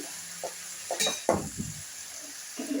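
Cabbage curry frying in a pan with potatoes, a soft steady sizzle under a few stirring scrapes and light clinks of a utensil against the pan, close and fairly quiet.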